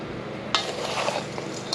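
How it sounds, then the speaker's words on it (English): A spoon stirring sugar into apple and rhubarb crisp filling in a bowl, a continuous scraping, grainy swish with a couple of light clinks against the dish, close and steady. "mix it up"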